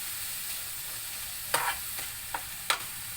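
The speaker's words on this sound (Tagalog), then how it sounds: "Haluin lang natin hanggang sa magpula." Ground pork stirred in a hot pan as it browns for a carrot and potato dish, a steady soft sizzle with a few sharp scraping strokes of the spatula near the end.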